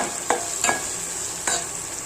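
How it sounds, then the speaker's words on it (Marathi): Moong and diced potato fry in hot oil with a steady soft sizzle, broken by three brief stirring scrapes of a spatula; nobody speaks. "तर समजून जायचं ही तेलामध्ये चांगली फ्राय झाली"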